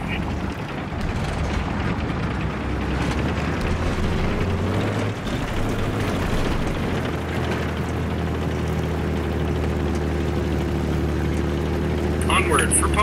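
Enemy helicopter in Battlefield 3, a steady droning rotor and engine hum running throughout amid dense gunfire, vehicle noise and battle clutter, with players talking over it.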